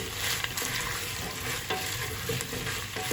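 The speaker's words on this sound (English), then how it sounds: "give them a stir" Carrots and potatoes fry with a dense, steady sizzle in a pot for a Greek green bean stew, with soft stirring scrapes beneath the constant crackle.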